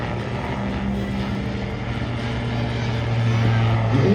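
An autogyro flies a stunt display at an airshow, giving a steady, loud engine and rotor drone that swells slightly toward the end, with no speech over it.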